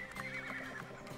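Horse neighing in the Bibi & Tina: New Adventures with Horses video game, a brief close whinny with a wavering pitch over faint hoof clip-clops.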